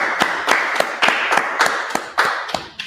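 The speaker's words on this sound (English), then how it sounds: "All right, let's clap it up." Audience clapping at a law class on West 125th Street in Harlem, New York: a ragged series of sharp, loud hand claps in an uneven rhythm, close by, with no talking.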